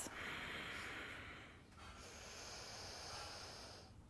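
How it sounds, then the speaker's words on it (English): A slow, deep breath during a yoga stretch sounds as a long airy inhale, a brief pause, then an equally long hissing exhale, soft and close with nothing else heard. "Two deep breaths."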